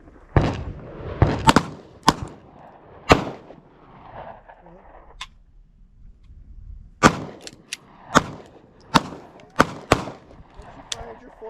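Sharp gunshots crack out at a church safety team's defensive range training session, single shots coming in two uneven groups with a quiet gap between them. A voice gives a short command before the firing starts.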